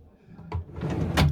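A few quick wooden knocks and a sliding scrape as a drawer in an Illusion XMK730 motorhome is pulled open, close and brief.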